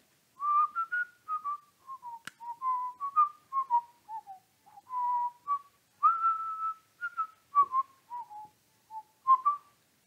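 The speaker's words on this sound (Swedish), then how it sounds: "Vissla! Jag visslar." A person whistles a lively, wandering tune in short bright phrases with brief pauses, clear and close against silence.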